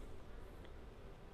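Honey bees buzz around their hives, a faint, continuous insect hum heard alone in the open air.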